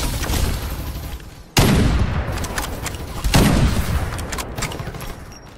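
Heavy gunfire in the shooter game Farlight 84: loud close shots in several sharp bursts, each followed by a booming, decaying tail, with rapid fire filling the gaps.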